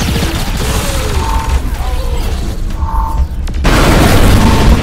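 Bombs exploding in the video game Saints Row 4, a loud continuous roar of booming blasts and rumbling debris, swelling heavier toward the end, with no voices.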